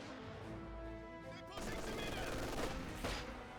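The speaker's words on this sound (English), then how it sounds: "Rifle grenade." Rifle grenade exploding in the Company of Heroes 2 war strategy game, a sharp blast that opens into rattling gunfire and further bursts, with a commentator talking over the battle.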